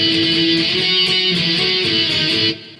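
A short electric guitar fill bridging verse and chorus, with steady rhythmic strumming that cuts off abruptly near the end, played alone.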